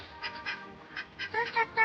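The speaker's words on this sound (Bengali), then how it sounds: "হাঁসগুলো তো ভয় পেয়ে যাচ্ছে আমরা দেখি" Ducks on a village pond quack in short, spaced bursts, fairly close and moderately loud, with a few overlapping calls near the end as the startled birds react.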